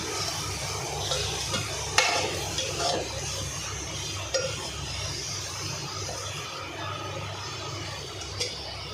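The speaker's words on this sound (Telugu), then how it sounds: "ఇప్పుడు మనం వేసిన అల్లం వెల్లుల్లి పేస్ట్, ఈ కారం పచ్చివాసన పోయి బాగా ఫ్రై అయ్యే వరకు వేపుకోవాలి." Ginger garlic paste and chili powder frying in oil, a steady close sizzle with occasional scrapes and clinks of a spoon against the pan, no voices.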